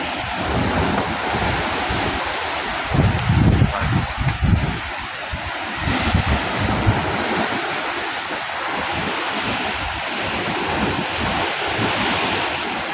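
Heavy waves roll against the Manila Bay dike after a typhoon, a steady loud surf roar with a few deeper crashing surges and constant gusty wind noise on the microphone.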